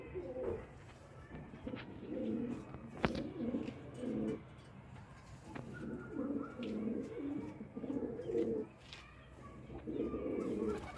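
Pigeons cooing in a loft, soft repeated throaty coos in several phrases with short pauses, fairly close and quiet, with faint chirps and small knocks in the background.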